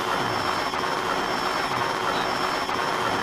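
A helicopter engine in the Minecraft mod Immersive Vehicles drones loudly and evenly with a high, steady turbine whine over a broad rumbling hum, unbroken and close for several seconds.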